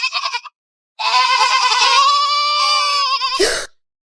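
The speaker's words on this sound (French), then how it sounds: "T'avais des chèvres autour de mon lit." Goats bleat loudly and up close: a short stuttering bleat, a brief pause, then a long, wavering, nasal bleat that ends in a rough cry.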